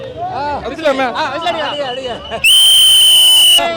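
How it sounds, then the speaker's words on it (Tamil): Cricket fans of the Chennai team outside a match: a loud, piercing, sustained whistle for about a second, following excited chatter and crowd babble. "ஒரு விசில் அடிக்கலாமா?"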